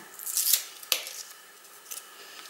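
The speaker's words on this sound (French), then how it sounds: "Je vais le détourer." Scissors snip through paper while trimming a cut-out for a handmade vintage-style greeting card, several close, crisp cuts with short pauses between them.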